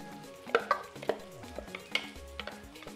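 Onions and pepper with salt in cooking oil, stirred in a pan, with a few sharp spoon knocks and scrapes over a light sizzle, close and brief.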